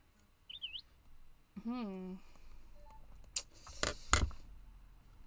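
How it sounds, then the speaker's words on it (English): A device notification chime, a short rising electronic chirp pattern followed by brief tones, fairly loud and close, with sharp clicks and rustles around it during a background-making art session. "That notification is just a little too loud."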